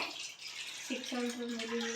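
Water splashes and then pours steadily into a cooking pot for instant ramen, its pitch rising slightly as it fills.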